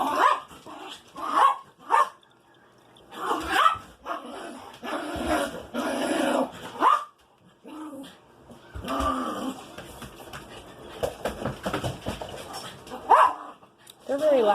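Several dogs bark loudly and repeatedly in bursts, close by inside a house, with a person's voice calling over them at times.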